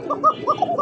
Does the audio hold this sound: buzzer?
no